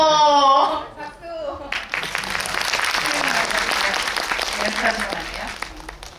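An audience at a special screening event for the film 'Drive My Car' applauds director Hamaguchi as he arrives, with sustained, dense clapping filling the room after a short stretch of speech.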